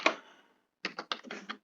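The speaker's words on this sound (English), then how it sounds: "typing commands one by one." Commands are typed on a computer keyboard: one sharp clack, a pause, then a quick run of several close, crisp keystrokes, with no voices.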